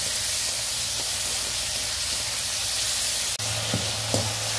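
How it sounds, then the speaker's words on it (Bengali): Prawns sizzle in hot oil in a pan, a steady loud hiss of frying that runs without pause, with a brief clatter near the end. "এবার আমি মাছটাকে ভেজে নেব"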